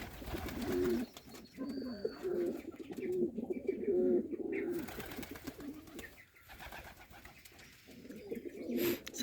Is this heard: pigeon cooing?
yes